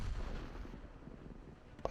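An artillery shell strikes a tank in World of Tanks: a low rumbling of battle leads into a single sharp, fairly faint impact crack near the end.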